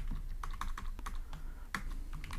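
Close, quiet tapping of keys as code is typed on a computer keyboard, a quick irregular run of clicks lasting a couple of seconds with no voices.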